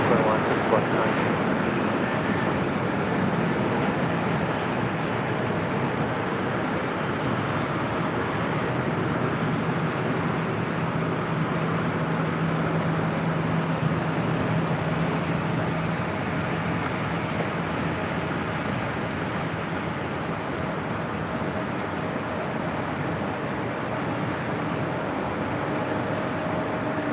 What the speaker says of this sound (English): The Southwest Airlines Flight 529 heading to Las Vegas in a freshly baited 737-700